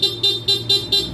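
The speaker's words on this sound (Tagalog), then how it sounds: "So, stock horn." Stock horn on a car sounds in five short, loud, evenly spaced beeps, close and alone.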